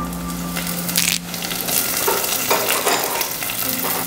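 Julienned ginger, slit green chillies, sliced shallots, curry leaves and chopped onion sauté in hot oil for a sardine curry, a steady close sizzle broken by scraping stirs of a spoon against the pan, with no voices.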